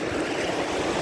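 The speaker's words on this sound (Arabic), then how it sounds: "أصوات البحر" Sea surf rushes in a continuous even wash, a broad hissing roar of waves close by, with faint wind and no voices.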